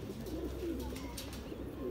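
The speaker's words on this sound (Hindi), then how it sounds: "ये कबूतर है" Soft cooing from a Chanda Khani pigeon, low murmuring calls repeating steadily over a constant room hum, close by and moderately quiet.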